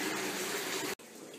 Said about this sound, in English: Right now, I'm pumping out some of the water out of my old salt water pump right there.